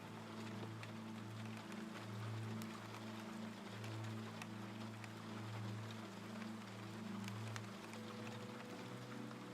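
Steady rain falls in a soft, constant patter with scattered drops, over a low droning hum that continues throughout, with no voices.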